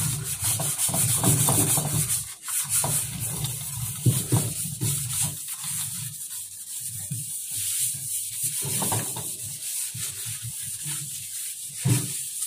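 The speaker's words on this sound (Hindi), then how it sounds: "अब हम इसको अच्छे से रगड़ सकते हैं।" Continuous rough scrubbing on a steel sink coated with leftover cleaning residue, close and fairly loud, with rhythmic rubbing strokes and a brief pause partway through.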